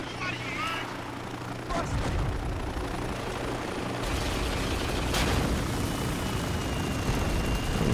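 Helicopter rotor and engine noise in the video game Spec Ops: The Line, a steady whirring drone under sporadic gunfire and explosions, fairly loud and close.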